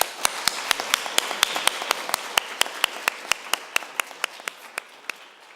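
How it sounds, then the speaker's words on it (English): Sparse, evenly spaced claps at a final presentations event, crisp individual hand claps in a steady rhythm, sounding like only a few people applauding in a quiet room. "I'd like to offer them a huge round of applause."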